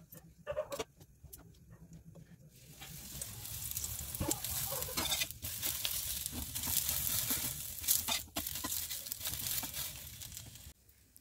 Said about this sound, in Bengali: আমি এখন তাওয়াতে ভেজে নিব।